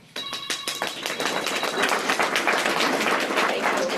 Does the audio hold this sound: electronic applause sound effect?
yes